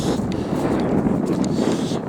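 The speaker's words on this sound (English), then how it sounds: "Absolutely biting wind." Biting cold wind buffets a handheld camera microphone outdoors, a steady loud rumbling roar with gusty flutter throughout.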